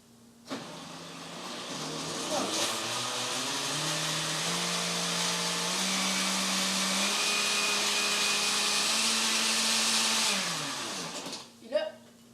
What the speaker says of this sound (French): je vais le mixer, mais je vais me tenir loin parce que j'ai pas le goût que ça vous fasse énormément de bruit dans les oreilles